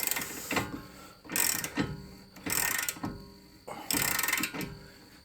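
A ratchet wrench cranks a 3/4 inch socket on a Hyundai Accent during front wheel bearing work, giving four loud, close clicking bursts separated by short pauses.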